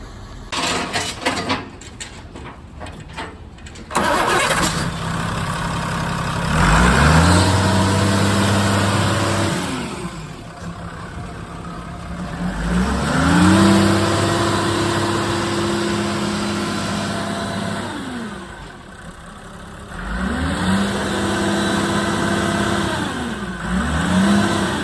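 A JCB 426b wheel loader's engine runs and revs repeatedly, each burst of throttle rising and falling in pitch before settling back toward idle, fairly close and loud.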